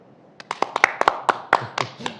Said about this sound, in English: Clap if you're for Amendment A.